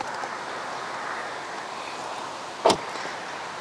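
A single solid thunk of the door shutting on a custom all-wheel-drive 1951 Infiniti Shoebox car cuts through a quiet outdoor hiss, short and close, with no talking.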